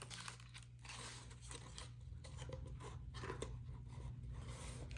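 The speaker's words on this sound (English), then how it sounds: "And then we can remove the backing from the tape and close the sides." Crinkling and rustling as backing is peeled from tape and a paper matchbook-style gift box is folded closed, close up and fairly quiet, with continuous papery crackle for a few seconds.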